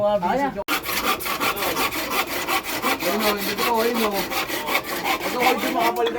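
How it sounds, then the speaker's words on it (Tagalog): A hand saw rasps through wood in fast, steady back-and-forth strokes, close and continuous after a brief pause at the start. "Kaya Kuya Patrick, lagari ka muna."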